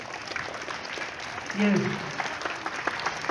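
Children clap at a morning school assembly honouring domestic staff, a steady soft patter of applause across the room while a voice speaks briefly over it.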